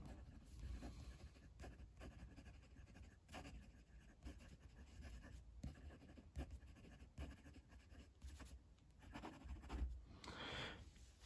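An Asvine P36 titanium fountain pen writes quickly on paper, making close, faint scratching strokes in an uneven rhythm with brief gaps between words.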